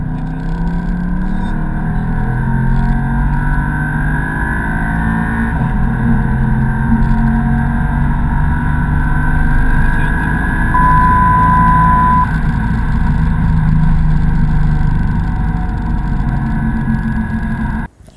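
A Mercedes C-Class Coupé Black Series drives along with a loud, steady engine drone and road roar that hold evenly throughout before cutting off abruptly at the end.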